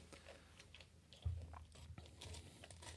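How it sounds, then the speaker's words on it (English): Raisin Bran Crunch cereal being bitten and chewed close up, a loud crunch followed by a run of softer crisp chewing sounds, with no talking. "Okay, going in for a second bite."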